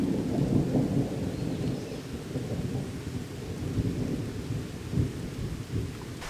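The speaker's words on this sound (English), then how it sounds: "There's another big thunder." Deep rolling thunder rumbles continuously through a rainstorm, heavy low-pitched and fairly loud, with steady rain hiss behind it and no voices.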